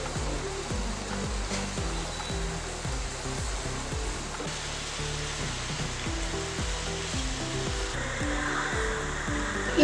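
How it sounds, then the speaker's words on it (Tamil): A pot of water at a rolling boil with lasagna sheets for a chicken cheese lasagna gives off a constant hiss and roil, with rhythmic low bubbling thumps repeating throughout. "இப்போ வந்து தண்ணி நல்லாவே கொதிக்க ஆரம்பிச்சிடுச்சு"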